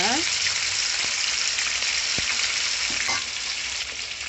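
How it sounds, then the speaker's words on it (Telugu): Chicken pieces for crispy pakodi deep frying in hot oil over a high flame, a loud, steady, dense sizzle that carries on through the whole stretch with a few faint clicks over it. "నూనె వేడెక్కిన తర్వాత మనం రెడీ చేసి పెట్టుకున్న చికెన్ని నూనెలో ఒక్కొక్క పీసుగా వేసుకోవాలండి."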